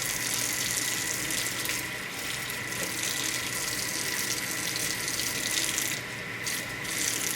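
Water runs steadily from a detachable tub shower head to rinse a wig, a constant close hiss and splash with slight shifts in the flow, heard alone.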